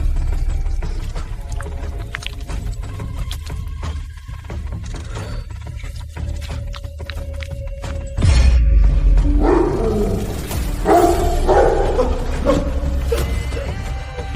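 A large, enraged dog barks and roars loudly and close, mixed with crashing and smashing noises; a sharp loud burst about midway, continuing rough growling and barking after.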